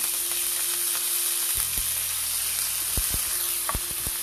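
A sooji mixture with turmeric and fresh coriander sautéing in a pan: a steady, close frying sizzle, with a handful of distinct spatula knocks and scrapes against the pan toward the end and no voices.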